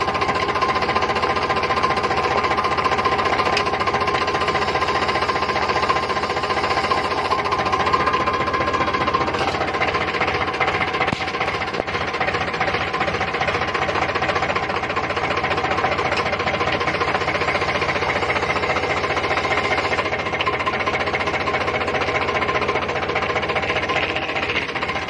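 Sonalika tractor diesel engine running steadily with a continuous knocking, clattering rumble and vibration, loud and close for the whole stretch with no pauses.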